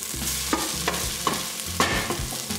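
Ingredients for a Colombian fish-head sancocho being sautéed in a pot, a loud sizzle broken by repeated stirring scrapes and clunks of a spoon at roughly half-second intervals.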